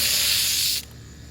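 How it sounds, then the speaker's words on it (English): A spray bottle or can mists patio furniture in one close, steady hiss that stops abruptly, leaving near silence. "I'm going to go all the way around to make sure that they all get sprayed"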